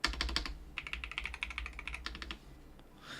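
Rapid clacky keystrokes from a stock MAD60HE Hall effect mechanical keyboard, close and crisp, in quick bursts with a short pause before a final flurry.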